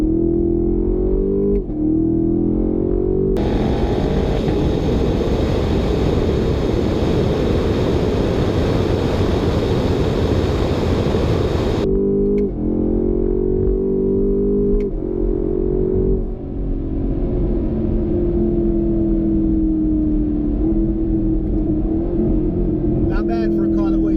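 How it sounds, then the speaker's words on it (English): A 2020 Camaro SS Hertz Hendrick Motorsports car drives with a steady low engine drone, louder with broadband road and wind roar in the middle, then settling back to a humming cruise; close and continuous throughout. "We're going to take it out for a drive."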